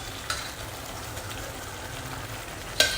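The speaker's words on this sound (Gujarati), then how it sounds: "બાફેલા વટાણા હવે એની અંદર આપણે ઉમેરી દેવાના છે." Boiled peas tumble into a pan of sizzling tomato masala gravy for street-style ragda, a steady frying hiss with faint stirring clinks and a sharp scrape near the end.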